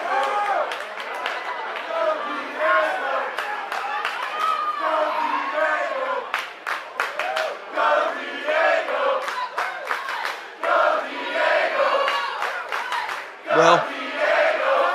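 A crowd at a Hardywood pro wrestling event cheers, chants and yells loudly throughout, with dense overlapping voices and shouts and occasional claps.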